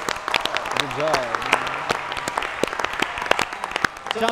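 A studio audience applauds a stage performance by five performers on a reaction show, a steady wash of clapping with voices talking over it.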